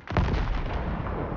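Gunfire in the shooter game Warzone, a loud booming burst that rolls into a dense, rumbling tail, heard alone.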